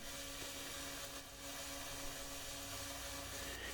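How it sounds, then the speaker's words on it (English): A surface grinder thins a knife blade blank down in thickness while replicating a 1950s handmade knife, giving a steady, close, high-pitched grinding whine with constant intensity and a faint motor hum underneath. "Now we're using the surface grinder at this point to take the material down in thickness just"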